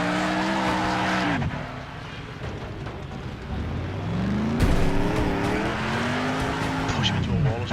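Cars skid, squeal and slam together in the Next Car Game demolition racing game, with loud engine whine and tire screeches under a player's excited commentary.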